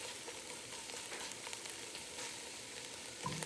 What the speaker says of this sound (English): I'm just trying to form a crust on these onions